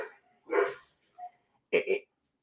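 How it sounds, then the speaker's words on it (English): Several dogs barking indoors in short separate bursts, a couple of sharp barks then a quick double bark, moderately near with no talking over them. "I don't know why my dogs are barking"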